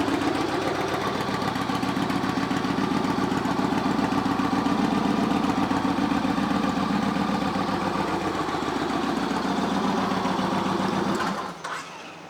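A Yamaha Roadliner XV1900 motorcycle with about 9,000 miles idles steadily and close, a loud, even V-twin rumble that runs unbroken before cutting off abruptly near the end.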